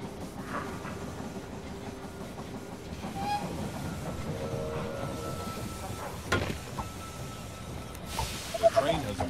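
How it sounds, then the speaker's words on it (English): Train arriving at a station in the strategy game They Are Billions, a steady rolling rumble with faint clacking and a sharp hiss near the end, heard under game effects and talk. "The train has arrived at the station."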